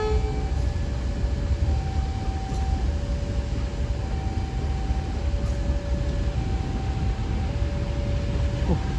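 Sancaga passenger train from Surabaya to Yogyakarta passing through Walikukun station: a steady, loud rolling rumble of cars on rails fills the whole stretch, with faint tonal squeals drifting above and no voices.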